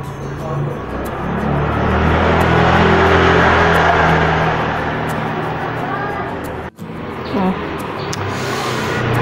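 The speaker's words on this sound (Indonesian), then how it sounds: "Kita lihat bunyi mesinnya. Ini masih bisa di starter." Honda Scoopy 2011 scooter engine starting and running, a close steady hum swelling after the first second, with a brief dropout and then the motor continuing.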